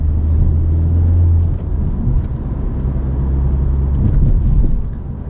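Honda Civic Type R driven over a bumpy road, heard from inside as a steady low engine drone and road rumble with a brief shift in tone partway through.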